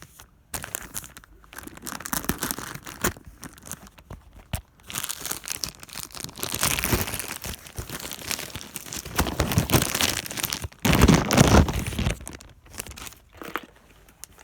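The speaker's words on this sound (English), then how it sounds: "And it looks like this one I'm going to need to cut open." Plastic packaging around a headphone carrying case is cut and torn open, with continuous close crinkling, ripping and crunching that builds and peaks in louder bursts, no voices.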